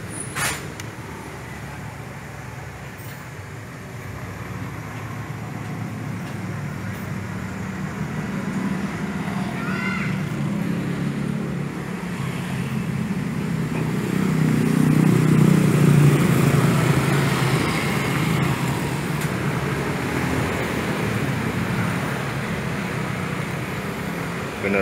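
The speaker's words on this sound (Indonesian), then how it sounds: "Ini Isuzu Panther LS 2500cc" A 2004 Isuzu Panther LS with a 2500cc diesel engine runs at a steady idle, giving a continuous low, rumbling drone. It stays fairly even throughout and swells slightly louder about halfway through.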